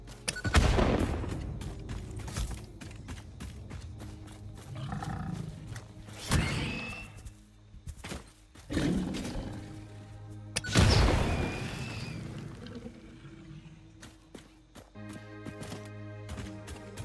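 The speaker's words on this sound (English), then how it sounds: "I just set off an explosion near them." An explosion set off in the factory-building game Satisfactory, a loud booming blast with rumbling tails, followed by further heavy bangs and booms spread over the stretch.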